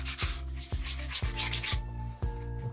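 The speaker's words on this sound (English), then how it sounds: "So all I'm going to do is scuff the underside of that a little bit." The PVC-like surface of a Spinera SK10 inflatable kayak is scuffed by hand before D-rings are glued on: rhythmic rasping strokes, about two per second, close and steady with no voices.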